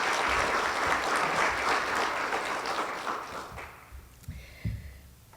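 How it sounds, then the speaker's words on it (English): Audience applause at a member appreciation luncheon held by a chamber of commerce, a steady full round of clapping that fades out, followed by a few quieter scattered noises. "Please give him a round of applause."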